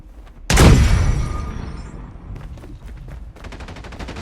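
A grenade goes off in a shooter video game with one sudden loud blast that rolls away over about a second, followed by bursts of rapid gunfire.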